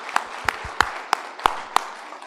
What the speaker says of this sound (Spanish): Vamos a dar un fuerte aplauso para estas personas.